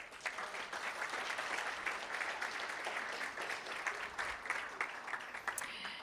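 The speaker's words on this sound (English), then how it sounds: "Let's give all of them a round of applause." A school board meeting audience applauds a student advisory council, a faint, steady wash of many hands clapping heard from a distance for several seconds without a pause.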